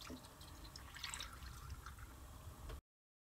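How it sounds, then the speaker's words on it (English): Water is poured into a rock tumbler barrel over rocks, giving a steady, close gurgling trickle that runs for almost three seconds and then cuts off abruptly. "you want to take some water, and you want to fill up the water until it just covers the rocks"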